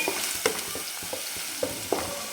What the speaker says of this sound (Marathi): कांदा टाकते. आणि चांगला सोनेरी कलरवर आपल्याला परतून घ्यायचा आहे.